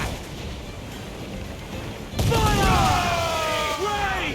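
Ship cannon fire in the Assassin's Creed Black Flag naval battle erupts after a quiet stretch: a sudden loud barrage of booms and crackling, dense and sustained to the end, with shouting voices over it.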